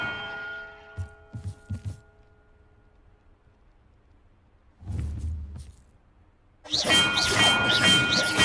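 Bell rung in Hogwarts Legacy: a tonal ring at the start, then a few short knocks, then a rich, loud ringing with many overtones sustained at the end.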